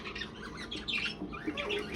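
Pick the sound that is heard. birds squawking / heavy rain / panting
birds squawking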